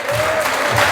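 A church congregation applauds in a loud, dense burst of clapping lasting about a second, with a sustained tone running underneath.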